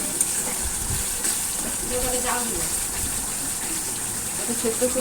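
Water added a little at a time to spice paste frying in a pan, a steady gushing, sizzling hiss running throughout at close range, with faint voices murmuring beneath.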